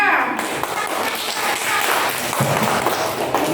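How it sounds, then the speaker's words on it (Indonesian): A classroom audience of university students applauds a student group after its teaching presentation, with a steady, dense wash of clapping that carries through the whole stretch at moderate loudness, with voices mixed in. "Tepuk tangan untuk kelompok 3."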